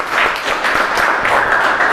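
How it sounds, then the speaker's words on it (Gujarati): A classroom of students applauds a classmate in an organic chemistry lesson, a dense, steady wash of clapping from many hands that carries evenly through the moment. "તો નીરવભાઈ માટે જોરદાર તાળી થઈ જાય"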